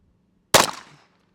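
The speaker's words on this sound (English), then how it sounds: "Let me shoot one more." A single loud pistol shot, from a competition handgun such as a Sig Sauer P211 GTO, cracks at an outdoor shooting range. It is close and abrupt, with a short fading tail and no other sound around it.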